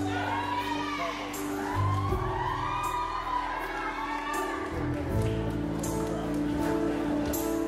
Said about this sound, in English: please give all our participants a big round of applause